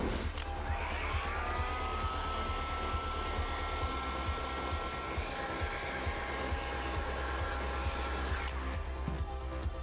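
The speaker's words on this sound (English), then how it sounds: "but we take a heat gun now. Activate the glue" A heat gun blows a steady stream of hot air to activate glue on leather, a loud continuous whooshing drone close by that holds throughout without talk.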